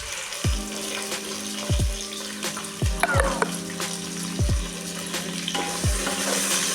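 Tomatoes fry in a hot pan for an eggplant curry with a steady sizzle, broken by repeated loud scrapes and clanks of a spoon stirring against the metal.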